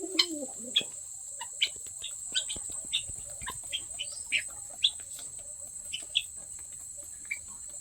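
Chickens and birds at a park in Mukutmanipur call in short, quiet chirps and clucks spaced irregularly over a faint steady insect-like hum, with no voices heard.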